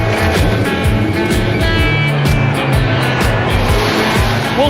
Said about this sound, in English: The cars of yesteryear are hitting the track, driven by some of the legends of Australian motorsport.